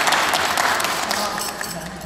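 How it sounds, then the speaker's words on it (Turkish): Guests applauding at a wedding ceremony, a continuous burst of many clapping hands at moderate loudness that tapers slightly toward the end. "Aferin, alkış yapalım."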